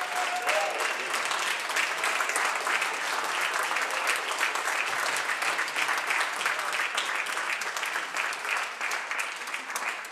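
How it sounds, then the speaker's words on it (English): Audience applause for honorees at a Women's History Month event, a sustained, dense round of clapping from a crowd lasting throughout, loud and close. "If we could have a round of applause for all of our honorees."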